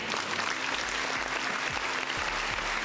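A crowd claps in loud, sustained applause, dense and continuous for a few seconds with no voices over it.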